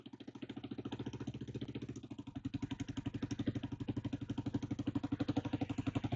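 Kawasaki dirt bike engine idling at a steady, even beat with a puttering exhaust blow from the manifold, close and alone, with no talk.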